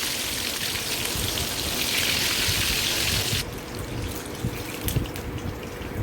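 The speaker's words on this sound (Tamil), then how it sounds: "7 to 8 minutes கிட்ட ஃப்ரை ஆகணும்." Chicken wings sizzling as they fry in a kadai, a steady dense crackle and hiss throughout that is louder for the first half, then settles to a softer sizzle with a few sharper pops.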